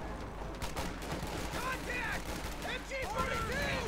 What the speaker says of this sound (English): There you go, pack 40 firing, both firing away there.